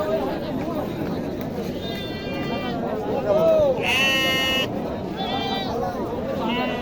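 Goats at a busy livestock market, including a mother goat with two kids, give a few loud wavering bleats near the middle of the clip. Steady crowd chatter and talking run throughout.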